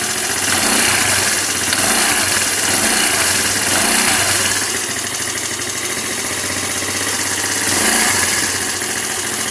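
A SYM Radar 125 scooter's CVT clutch and drive belt spin with the cover open, giving a steady, loud mechanical whir and engine drone that runs continuously for the whole stretch.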